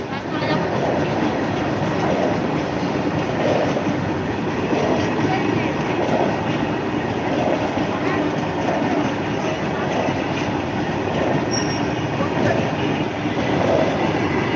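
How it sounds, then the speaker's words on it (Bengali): A train rumbles past nearby at the Masagram level crossing gate, Purba Bardhaman, in a steady, continuous roar with faint clattering from the wheels, lasting throughout without a break. "ছত্রিশটা ট্রেন পাস করছে"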